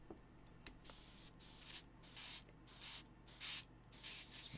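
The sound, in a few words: airbrush spraying violet paint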